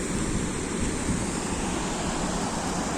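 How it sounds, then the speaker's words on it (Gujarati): The Hiran river during the monsoon rushes past in a steady, loud roar of flowing water, broadband and unbroken from start to end. "ખળખળ વહેતું પાણી"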